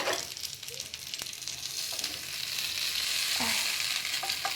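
Ghee drizzled over a burning piece of wood set beside tandoori chicken in a gas oven sizzles and crackles continuously, close and fairly soft, with a few sharper pops.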